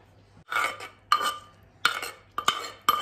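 Thai cucumber-carrot salad being served onto a plate, with a utensil clinking and scraping against the dish in four or five close, distinct bursts separated by brief pauses, without any talking.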